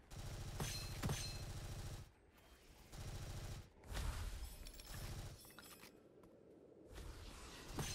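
Gunfire in the shooter video game Gunfire Reborn, sustained volleys of rapid shots and bursts with brief pauses between them, loud and close, with impacts and shattering mixed in.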